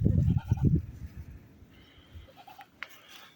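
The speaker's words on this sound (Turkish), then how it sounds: "Daha bir aylık oğlak işte." A one-month-old kid goat bleats in a few short, close cries at the start, followed by fainter bleats and rustling in the background.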